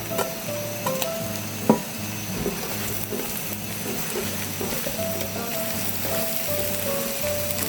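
Zucchini grown at home sizzles steadily in a hot pan with sliced onion and carrot, a continuous frying crackle with a few light clatters of stirring, fairly close and with no talking.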